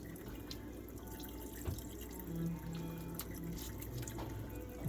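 Water runs and gurgles as it drains from a sink, a soft, steady trickle with faint drips and a few small knocks, close by and alone.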